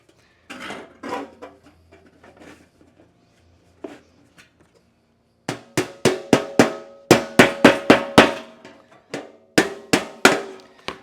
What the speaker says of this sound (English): I just strike it over, just peen it over once in a while so you don't lose what you have